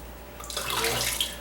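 Water sloshes and splashes as it is scooped out of a toilet bowl during a toilet installation, a short burst of wet swishing and trickling close by with no talk.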